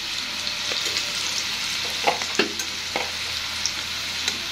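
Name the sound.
garlic frying with white mustard paste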